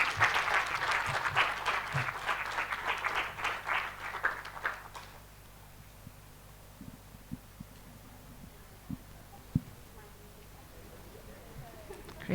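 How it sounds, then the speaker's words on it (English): Audience at a summit session applauding in a lively burst that fades after several seconds into a quiet room hum, with scattered thumps and handling noises following; a voice speaks over it. "We can give them another round of applause as they take the photo."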